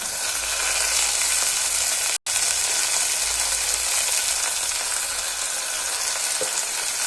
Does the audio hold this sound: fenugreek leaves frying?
yes